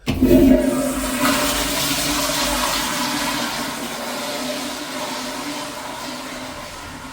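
A toilet flushes close by in a plumbing repair setting, a loud rushing gush of water that surges at once and then settles into a steady draining swirl for several seconds.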